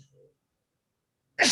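A single sudden, loud sneeze bursts out at the very end, after a brief faint murmur and a long stretch of near silence.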